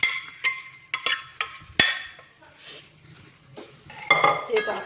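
Clattering of pots and utensils with sharp metallic clinks and a soft scraping stir as boiled vegetables from a pressure cooker are tipped into a pan for a colocasia-leaf curry, fairly close.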